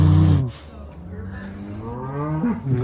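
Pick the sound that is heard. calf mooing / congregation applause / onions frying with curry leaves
calf mooing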